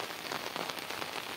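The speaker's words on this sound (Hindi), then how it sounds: "आज जोरे वर्षा हो देखो" Heavy monsoon-style rain pours down steadily, a dense continuous hiss of drops striking surfaces with no gaps, close and enveloping, with no voices.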